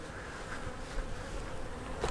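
Honey bees buzz steadily around a honey feeder jar at a beekeeping hive after a freeze, forming a soft, continuous drone of many insects close by.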